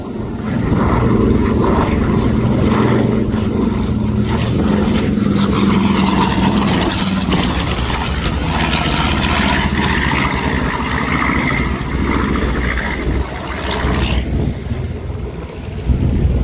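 Propeller-driven warbird bomber Sweet Dreams, painted in Air Apaches 345th Bomb Group markings, drones past at an airshow, a loud sustained engine roar with wind buffeting that swells and slowly fades.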